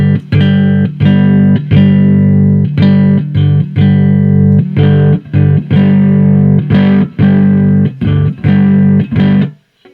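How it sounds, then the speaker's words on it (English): A loud, distorted electric guitar plays rhythmic chords through an amplifier, choppy strummed bursts for several seconds before cutting to silence. "I'll put a little distortion in there."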